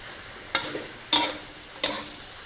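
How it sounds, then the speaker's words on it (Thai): Chinese cabbage and pork are stir-fried in a pan: three sharp scraping tosses land about half a second apart over a soft, continuous sizzle. "ผัดให้ผักกาดขาวอะค่ะ มันยุบตัว"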